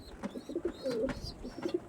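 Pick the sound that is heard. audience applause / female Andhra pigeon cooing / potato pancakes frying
female Andhra pigeon cooing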